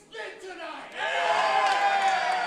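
Wrestling crowd roaring and chanting, split between Silver Lobo and Brian Murphy, a quieter murmur swelling after a second into a sustained loud cheer with overlapping voices.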